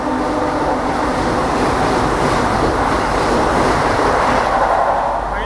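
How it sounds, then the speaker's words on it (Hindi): A Vande Bharat express roars past at close range, a loud, steady rumble and rush of wind and wheels that holds for several seconds without pause. "अभी वंदे भारत आने वाली है, मैं आपको दिखाता हूँ, इसकी क्रॉसिंग होने वाली है वंदे भारत की"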